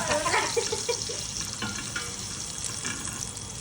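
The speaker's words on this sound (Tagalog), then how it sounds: "Patalabasin na natin ang panguluan ng bawang." Garlic sizzles in hot oil in a pan for chicken tinola, a steady close crackling hiss with faint stirring scrapes, continuous and fairly loud.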